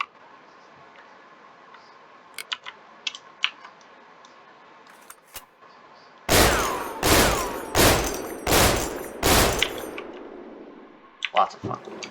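Several rapid bursts of gunfire from a weapon in the Warium video game mod ring out loud and close, each a short clustered volley, after a quieter stretch of faint clicks and handling noises.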